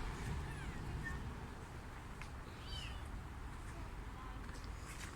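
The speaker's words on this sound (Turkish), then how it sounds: "Kedicikler ayağımın altında dolaşıyor, ezilecekler." Small kitten meows come and go at moderate volume over a steady outdoor background hum, with faint voices nearby.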